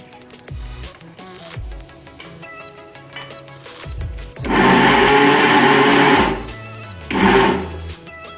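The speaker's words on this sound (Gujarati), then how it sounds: "એક ચક્કર આપણે મિક્સરમાં તેને ઘુમાવી લઈશું" A mixer grinder whirs in short bursts while blending milk sweet mixture, then roars loudly for a couple of seconds, stops, and gives one more brief loud spin.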